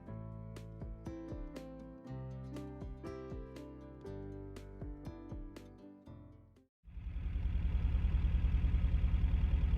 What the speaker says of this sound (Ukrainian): Але машинка тим не менше завелася.